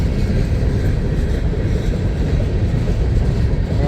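A freight train of empty coke cars rolls past close by, loud and continuous with rattling wagons and a steady rail roar.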